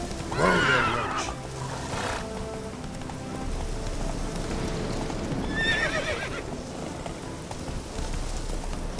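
Roach the horse in The Witcher 3: Wild Hunt gives a loud close neigh, then gallops with soft, steady hoofbeats and a second whinny midway, without any talk.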